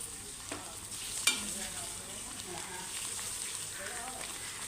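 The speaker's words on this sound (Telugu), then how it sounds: "అల్లం వెల్లుల్లి ముద్ద అయితే మనకి వేగిపోయిందండి." Ginger garlic paste frying in a pan, a soft, even sizzle and crackle heard fairly faintly, with one brief sharp clink of a utensil partway through.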